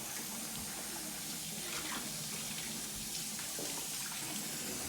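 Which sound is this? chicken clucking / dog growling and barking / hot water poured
hot water poured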